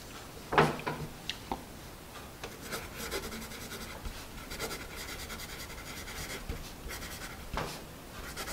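A store-brand wooden pencil scratches across paper with a dark, slightly waxy stroke, giving quiet rubbing and scraping sounds in uneven strokes, with one sharper scrape near the start, close and soft.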